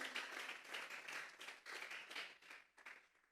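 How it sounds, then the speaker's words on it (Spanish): A church congregation claps together as an offering to God, a faint, rhythmic wave of many hands with steady pulsing beats. "Vamos a darle una ofrenda de palmas a Dios en esta hora."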